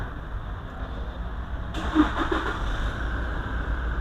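A 2017 Toyota Fortuner 2.4V diesel engine, push-button started, turns over and catches at about the two-second mark, then settles into a steady idle for the rest of the clip. No one speaks.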